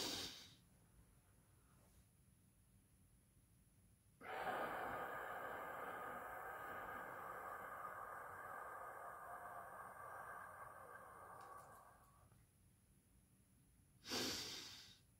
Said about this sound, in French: Respirez profondément.